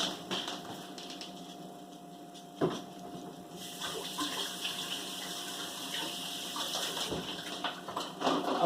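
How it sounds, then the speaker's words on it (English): Hands washed under a running kitchen tap, a steady rush of water with splashy bursts as hands move through the stream, near and moderately quiet. "let me wash my hands again"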